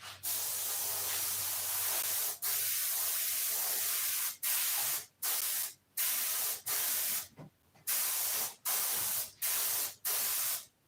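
White paint hisses from a spray gun laying another coat, a long continuous spray followed by a series of short bursts with brief pauses between, steady and close.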